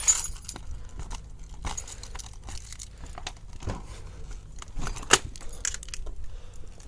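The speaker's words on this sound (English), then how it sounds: "I've got 2 keys for the door." A pair of door keys for a small camper jangle and clink close by, with soft scattered rattles and a brighter jingle near the end, and no talking.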